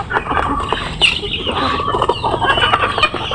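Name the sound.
chickens clucking on a farm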